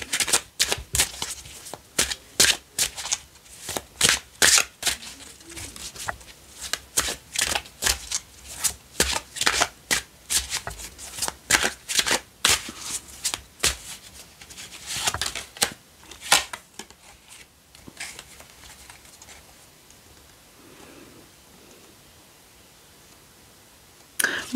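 Tarot cards being shuffled close up: a long run of crisp riffling snaps and rapid flutters in uneven bursts, fading to quiet rustle near the end, with no talking.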